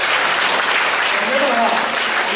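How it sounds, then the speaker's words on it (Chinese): A church congregation at an anniversary thanksgiving service claps, producing a loud, dense, steady burst of applause that fills the hall for a couple of seconds without a break. "拍手。"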